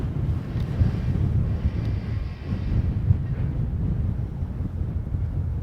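Scaffolding being taken down inside the Anfield Road stand at Liverpool F.C.'s ground heard from outside as a distant, continuous low rumble with faint clanks, muffled by wind noise.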